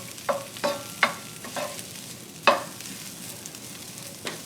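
Minced garlic is stirred in a hot pan, a low continuous sizzle punctuated by sharp, irregular spoon clacks against the pan, about six distinct strikes, close up with no talking.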